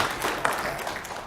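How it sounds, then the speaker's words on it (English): A brief stretch of scattered applause from an audience at a planning and zoning commission meeting, a mix of individual claps at moderate distance. "I'm sorry, I couldn't hear you over the clapping."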